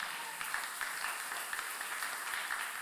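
A congregation claps in sustained, dense applause throughout a church service to acclaim Jesus, steady and without pauses.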